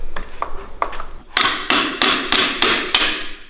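Hammer blows drive a punch through old steel on a 1970 Bird mini bike, first a few lighter taps, then five loud, evenly spaced metallic strikes ringing close up.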